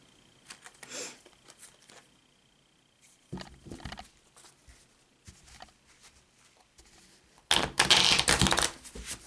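Tarot cards riffle and snap in several short bursts, quiet patters between them, ending with a louder, longer flurry of shuffling.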